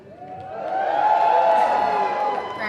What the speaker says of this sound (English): Will you give a bigger cheer than that for everybody watching on TG Cahir as well?